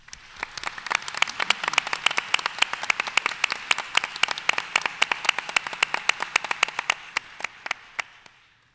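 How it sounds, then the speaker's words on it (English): An audience at a General Synod session of a 2013 joint church assembly gives a round of applause, crisp individual claps at a brisk, fairly even pace that carry on for about eight seconds before tapering off. "let's give them a round of applause"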